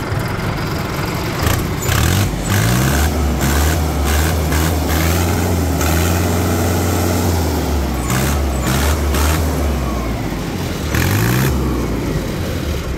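A tractor with about 445 running hours starts and settles into a steady, loud diesel idle, its low rumble continuous throughout with a few brief bursts of higher-pitched hiss or clatter.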